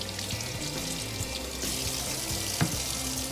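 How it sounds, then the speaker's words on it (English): Bell peppers rinsed under a running kitchen tap, a steady rush of water splashing in the sink with a brief clunk partway through, close and continuous with no talk. "So I'm just rinsing these off."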